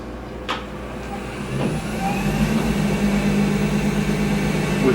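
A wood lathe spins a barrel blank on a mandrel while a roughing gouge turns it into a cylinder, making a steady motor drone that swells slightly as the cut continues.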